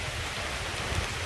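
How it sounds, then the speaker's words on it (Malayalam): Rain falls steadily in Munnar, a soft, even hiss of drops on surfaces with no voices, brief and moderately quiet. "മഴയുണ്ട് താൻ"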